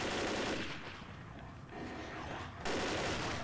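A dense, loud barrage of gunfire from the video game Left 4 Dead fills the scene, with a shotgun blast cracking through near the end of the sustained fire.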